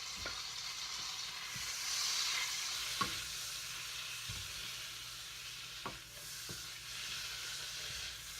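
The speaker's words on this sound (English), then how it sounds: "The sizzle of the butter" Butter melts in a pan on a high burner, giving a steady soft sizzle and hiss throughout, with a few light clinks and scrapes of a utensil over it.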